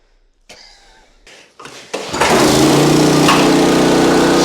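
A few sharp pulls and sputters, then a small gasoline engine catches and roars into a loud, steady high-pitched run.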